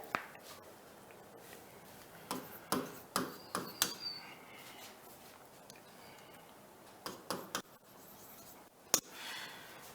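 Pen or chalk strokes during a lesson come in short clusters of faint ticking taps, with quiet pauses between bursts of writing.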